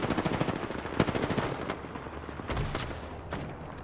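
Rapid automatic gunfire from the video game Apex Legends, dense bursts of shots rattling continuously at moderate volume with sharper cracks scattered throughout.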